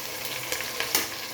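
Tomato, ginger-garlic paste, coriander, mint and curry leaves fry in hot oil, giving a dense, loud, continuous sizzle punctuated by a few quick stirring scrapes.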